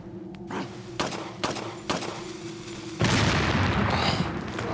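Gunfire in Resident Evil 4 (PC, Ada Wong's Separate Ways) sounds as four sharp booming shots about half a second apart, followed by a louder sustained roaring blast that fills the rest of the moment.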